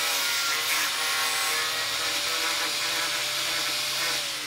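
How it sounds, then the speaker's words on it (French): An angle grinder smooths the edges of wooden 40-by-48 pallets being built into a compost bin, giving a loud, continuous abrasive whir with a steady whine, ending just before the tool stops. "Refaites un dernier tour avec la meuleuse pour vous assurer que rien ne dépasse."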